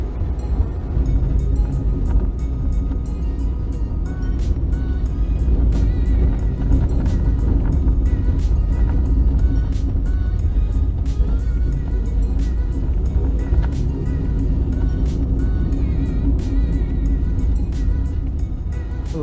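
A car on a test drive through a subdivision after an oil and ATF change, a steady interior drone of engine and road noise with faint ticking, continuous and fairly loud.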